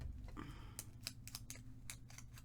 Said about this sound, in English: So we'll snip it here. And we'll snip a little bit down here.